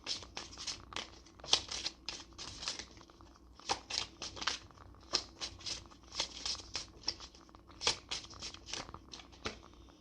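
Hidden Truth oracle cards being handled and pulled make quiet, close papery crinkles and flicks that come in quick, irregular bursts over roughly ten seconds.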